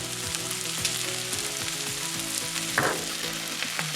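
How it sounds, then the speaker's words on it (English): Zongzi filling being stir-fried in a pan with Chinese spices, white pepper and sugar gives a steady, loud sizzle throughout, with scraping stirs of a spatula mixed in and no talking. "Stir fry for 3 minutes."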